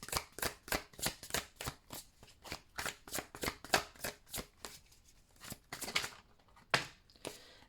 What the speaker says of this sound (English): I'm just going to reshuffle because that's too many cards.